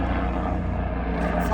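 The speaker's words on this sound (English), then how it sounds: "That's a hospital helicopter." A hospital helicopter passes overhead, its low, pulsing rotor drone constant and fairly loud, with voices talking over it.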